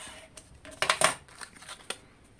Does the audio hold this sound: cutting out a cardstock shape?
yes